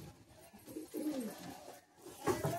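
High-flying Madrasi pigeons coo close by in soft, low, throaty rolling calls, a couple of short bursts over quiet background.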